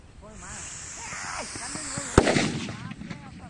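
Homemade nattu vedi firecracker rocket bursting midway through its flight: a rising hiss with someone talking over it, then a single sharp loud bang followed by crackling and fading rumble.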